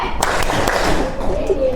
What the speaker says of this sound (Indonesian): tepuk satu, tepuk satu, tepuk satu